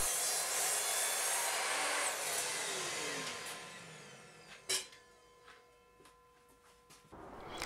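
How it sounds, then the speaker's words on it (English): Miter saw cutting a wooden piece set against a stop block, a loud whining burst that fades as the blade spins down, followed by a sharp knock and quiet tonal hum. "I set up a stop block and do this on the miter saw"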